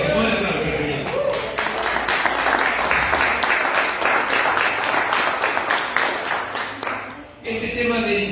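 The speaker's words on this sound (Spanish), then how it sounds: "Un aplauso, Señor." Congregation applauding inside a church during a Spanish-language sermon, a dense burst of clapping that swells for several seconds and then cuts off, with voices mixed in.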